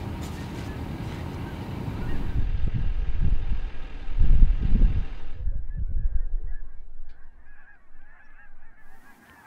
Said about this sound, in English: That is a lot of Canadian geese right there.